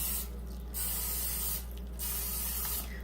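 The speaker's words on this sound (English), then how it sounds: "will spray down our muffin tin" Cooking spray sprayed onto a jumbo muffin tin while baking lemon blueberry muffins: three short hissing bursts spaced about a second apart, close and clear over a low kitchen hum, with no talking.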